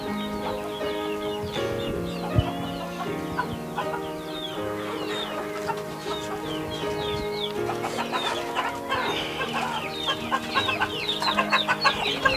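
Chickens in a poultry seller's cages cluck and chatter continuously at moderate volume, with busy overlapping calls and the occasional louder squawk.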